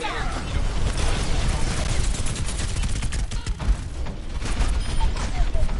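Dense, continuous gunfire and explosive bursts in the video game Overwatch, loud and chaotic with overlapping shots throughout.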